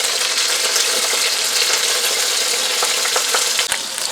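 Pot roast meat browning in a Le Creuset Dutch oven on the stovetop, a loud continuous sizzle close up, with faint clicks and one sharp knock near the end.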